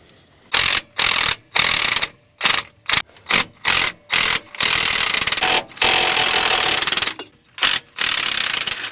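Quick bursts of ratchet clicking loosen bolts on a 1957 REO dump truck, the sharp close strokes coming in an irregular series with short pauses between them.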